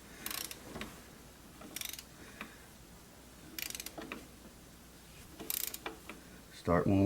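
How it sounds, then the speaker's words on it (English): A ratcheting wrench tightens valve cover bolts on a Toyota 2.4 engine of a 2008 Scion xB, giving quiet bursts of rapid metallic clicking separated by pauses, ending in a louder clunk. "We're going to start putting our bolts back in, and we're going to tighten"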